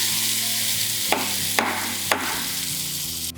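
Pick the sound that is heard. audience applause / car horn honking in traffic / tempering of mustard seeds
tempering of mustard seeds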